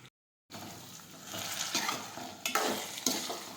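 Okra stirred and sautéed in a pan, with scraping stirs over a steady sizzle of frying after a brief silent start, close and moderately loud.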